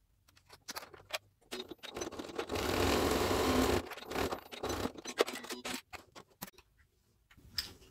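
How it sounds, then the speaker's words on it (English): A sewing machine runs a burst of top stitching along the bottom edge of a wallet panel, a steady whirring stretch framed by scattered clicks and handling taps of fabric and parts. "I'm going to take that to the machine and stitch along that bottom edge, just top stitch along it"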